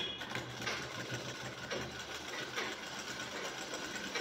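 A sewing machine runs steadily while stitching the cloth beneath a shirt collar, a continuous mid-level mechanical whir with no pauses and no voices.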